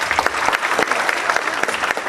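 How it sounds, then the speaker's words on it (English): Close, lively audience applause at an evening community performance event, dense clapping with a few sharper individual claps standing out. "And that's a round of applause to you all."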